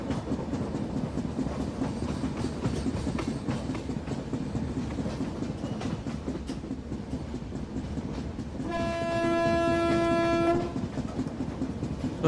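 Kashi Vishwanath Express, an Indian passenger train in Train Simulator, pulls away with a steady rolling rumble and rail clatter, then sounds a long, loud horn blast near the end.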